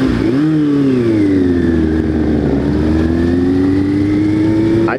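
A motorcycle engine, carbureted and in need of tuning, revs loud and close, its tone rising then holding a steady drone throughout, with no voices.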